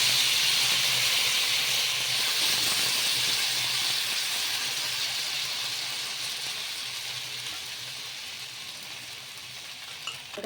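Bottle gourd rava dosa batter hits a hot oiled pan and sizzles in a loud, steady hiss that slowly fades, with a faint clink at the very end.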